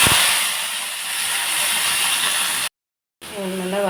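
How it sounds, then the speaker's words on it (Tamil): Cut eggplant pieces drop into hot oil with popped mustard seeds, setting off a loud, close, steady hiss and sizzle that briefly cuts out before resuming. "அதில் கட் பண்ணி வச்சுருக்க கத்திரிக்காவை சேர்த்துக்கலாம்."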